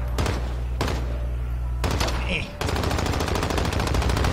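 Rapid gunfire bursts in Call of Duty Warzone, several loud close volleys of automatic shots separated by short gaps, ending in a steady rattling stream.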